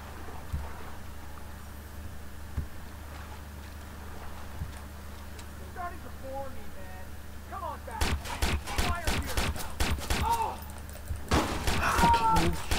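Gunfire in the Watch Dogs video game: a dense burst of loud, sharp shots in the second half, following quieter ambient game sound and light ticking.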